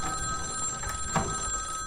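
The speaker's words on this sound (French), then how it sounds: "vas-y, je vais répondre au téléphone" A telephone bell rings continuously with a steady, bright, even tone throughout, moderately loud over a quiet room with no talk.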